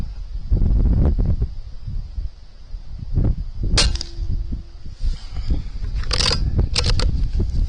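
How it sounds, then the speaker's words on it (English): Gusty wind rushes steadily outdoors during an air rifle shooting session with a BSA Super Ten, with sharp metallic snaps and clacks cutting through now and then; no talking. "Stuff's getting blown around in the background. It really wasn't that windy when I started."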